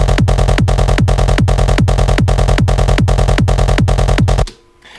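A hardpsy kick drum rings out in a fast, unbroken run of about a dozen loud, identical hits, each with a pitched downward sweep in the bass. The pattern stops abruptly near the end, leaving near silence.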